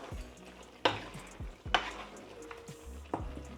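A spoon stirs pork bones in tomato sauce in a pot, with sizzling and scraping and several sharp knocks of the utensil against the pan, close up.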